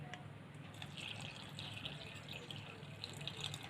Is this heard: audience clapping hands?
no